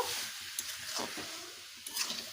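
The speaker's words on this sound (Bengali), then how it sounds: "এবারে দিয়ে দেবো চেরা কাঁচা লঙ্কা কিছুক্ষণ নেড়ে চেড়ে নামিয়ে নেব" A spatula stirs slit green chillies into a sizzling rohu fish head and taro stem curry, producing a close, steady frying hiss with soft scraping strokes; no talking.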